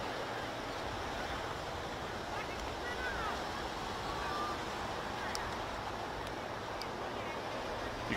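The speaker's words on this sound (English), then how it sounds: "You can probably hear the wind." Strong wind blows steadily across an outdoor sports ground at Maroochydore, a dense, continuous roar buffeting the microphone for the whole stretch with no pause.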